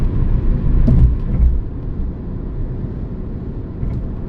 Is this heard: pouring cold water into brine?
no